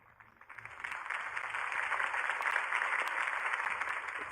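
Crowd applause in a video game swells from quiet to a steady, full roar of clapping that keeps going, with a few faint sharp clicks mixed in.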